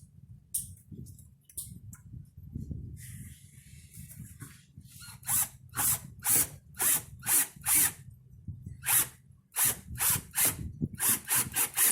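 A power drill with a Phillips bit on an extension drives fat-headed screws into a plastic can crusher: repeated short whirring bursts, close and loud, with pauses between and faint mechanical ratcheting.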